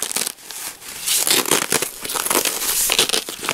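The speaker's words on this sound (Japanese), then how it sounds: "ここがマジックテープになってるので、 うん、 こうやって取って" A hook-and-loop fastener on a MAGMA RIOT backpack is torn open in a loud, close, rasping rip that stretches over several seconds in uneven bursts.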